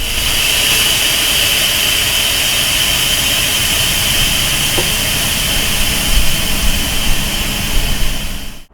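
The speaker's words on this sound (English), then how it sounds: "I'm going to go to the cab and I'm going to deflate my suspension" Air suspension on a brand new Freightliner truck being dumped from the cab: loud, continuous hiss of escaping air with a steady mechanical rumble underneath, close and unbroken for several seconds.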